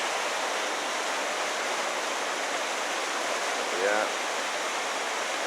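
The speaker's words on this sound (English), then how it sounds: "We're coming up an area where we've got some more waterfalls here." Steady broadband rush of waterfalls in Johnston Canyon, Banff, filling the whole stretch at constant loudness, with a brief spoken word near the end.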